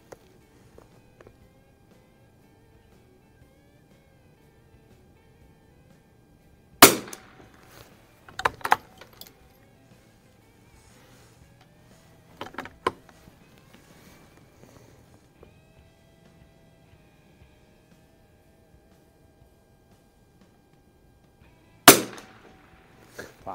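Sharp, isolated .22 shots from an H&R M-12 target rifle at an outdoor range, about four cracks spaced several seconds apart over quiet background with faint handling noises between.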